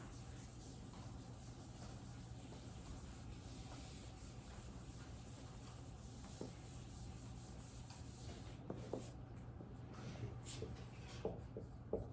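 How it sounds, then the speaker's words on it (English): An eraser rubs across a written diagram in steady, continuous scrubbing strokes, close and fairly quiet, with a few sharper taps near the end. "I'm gonna erase all this so I have a little more space."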